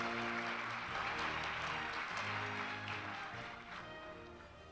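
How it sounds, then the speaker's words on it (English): Applause from the audience at the 2019 Sunhak Peace Prize award ceremony as laureates are welcomed: soft, steady clapping from a large hall, heard at a distance and low in level. "박수로 맞아 주십시오."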